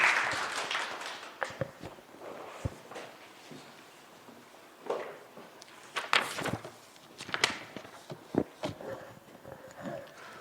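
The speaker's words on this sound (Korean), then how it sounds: "다 같이 박수로 환영해 주시기 바랍니다." Audience clapping to welcome two teachers onto the stage at a Korean English-education exam strategy seminar, broken and uneven bursts with footsteps and shuffling, swelling around the middle and end.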